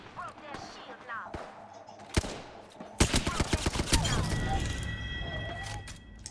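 Video game gunfire in a firefight, with a single loud shot followed by a dense burst of rapid automatic fire and rattling impacts, close and loud, over background voices.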